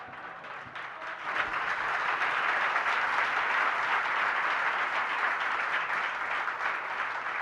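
Audience applause at a Gujarati religious discourse, a dense steady wash of many hands clapping that swells after the first second and holds loud and even to the end, with no talk over it.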